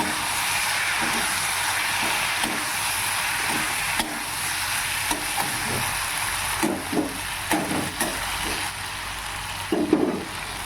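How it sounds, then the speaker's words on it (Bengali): Bhetki fish frying in a pan with spices and sugar, a steady hiss of sizzling oil with repeated scraping and stirring strokes of a spatula, close and fairly loud, no talking. "এবার এটাকে ভালো করে মিক্স করে নিচ্ছি।"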